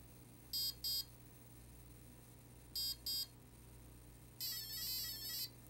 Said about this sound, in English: And we'll get three beeps for battery protection.